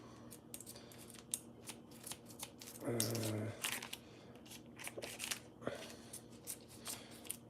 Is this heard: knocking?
no